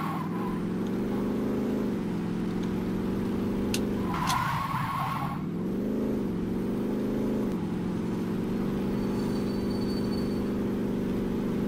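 Car driven in the video game Saints Row 2, a continuous droning engine with pitch dips as it shifts or slows, plus a brief screech of skidding tires midway, no talk.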